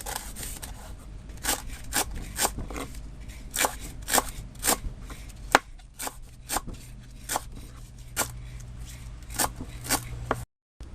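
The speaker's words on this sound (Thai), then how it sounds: "ใบเตยแล้วก็หั่นนะคะให้ละเอียดนะคะ" Pandan leaves are chopped finely with a knife on a board, about twenty crisp, close cuts in an uneven rhythm, with no talk.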